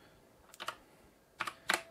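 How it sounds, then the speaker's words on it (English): A handful of light computer keyboard keystrokes, with a short pair of clicks followed after a pause by two more taps. They sound close and fairly quiet over a low background hiss, with no voices. "what you'll do is click on the start flag and type in command"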